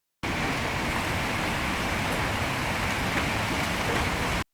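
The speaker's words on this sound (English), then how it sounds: "Again, I used a recording of wind." Steady, dense wind recording slowed down for a Silksong-inspired ambience, a continuous broadband whoosh at constant loudness that starts and stops abruptly.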